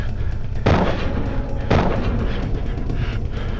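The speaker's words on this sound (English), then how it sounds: "With his shotgun empty, Morales changed to his revolver and staggered forward, firing at the subjects." Two sharp revolver shots ring out about a second apart during a shootout, each a loud broadband crack over a steady low background.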